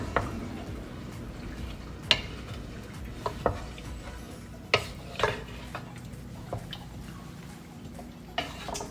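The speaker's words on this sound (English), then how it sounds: "Give this a good quick stir." Pound cake mixture being stirred, with soft scraping under occasional sharp clinks of a utensil against the bowl, close and fairly quiet, no talking.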